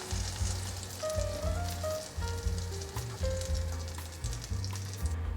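Shiitake mushrooms fry in hot oil until golden, giving a steady, close crackling sizzle with irregular spatters and pops, and a low intermittent hum running underneath.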